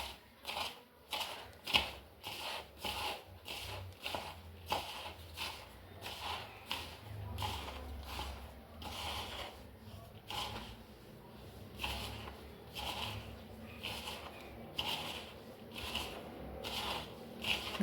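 Hands mix flour with grated coconut in a steady, faint rhythm of soft scraping and squishing strokes, repeating close by throughout.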